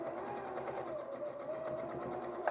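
A sewing machine stitches steadily while chain piecing quilt pieces, a continuous close whirring hum with a fast even needle rhythm and a small click near the end.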